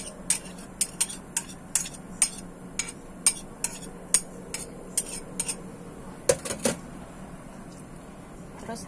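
Meatball dough mixed with small chilies, garlic and shallots is stirred in a bowl, giving a run of sharp utensil clinks against the bowl at a fairly steady rhythm, with a denser cluster of knocks near the end over a faint background.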